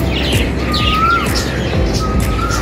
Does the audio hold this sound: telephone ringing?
no